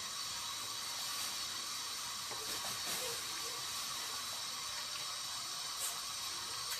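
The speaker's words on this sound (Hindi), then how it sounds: "पानी को अच्छी तरह बॉयल आ चुका है। अब इसमें गोभी शामिल कर दूंगी।" Cauliflower simmering in a pot of boiling water for a gobhi sabzi, giving a steady hiss of bubbling and steam with a few soft clinks around the middle, constant and fairly quiet throughout.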